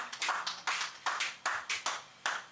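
A church congregation clapping for Jesus during a sermon, bursts of applause from a group, rising and falling in uneven waves, moderately distant and on its own without talk.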